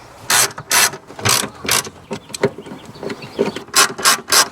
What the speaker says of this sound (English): From here we're going to take our 3/8 driver, and there are 4 bolts